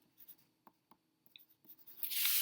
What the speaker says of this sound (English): let me write that timestamp down